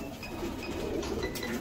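Pigeons of the Ferozpuri kind coo steadily on a rooftop loft, a low murmuring burble running continuously at moderate loudness over a busy background.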